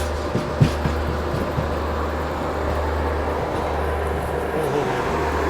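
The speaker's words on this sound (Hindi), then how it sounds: "क्या जनरेटर कार चल रहा है इसका" The generator car of a Duronto Express train runs with a steady low drone and a continuous broadband rumble, holding constant throughout with a few faint knocks early on.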